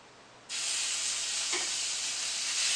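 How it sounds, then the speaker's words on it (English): Quail egg filled meatballs start searing in a pan over medium high heat, a loud, bright sizzle that bursts on abruptly and holds steady and close, with no talking. "now we turn on the medium high heat to sear this one."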